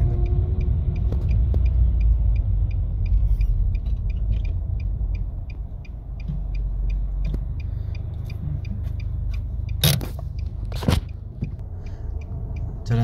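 A manual car on a driving lesson: a steady low engine rumble fills the cabin, with an indicator ticking in a regular rhythm and a couple of brief sharp bursts near the end.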